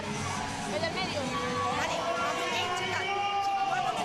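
A dense arena crowd at a Madrid padel match fills the space with loud, continuous babble and overlapping voices, a steady roar of many people talking and calling out with no pauses.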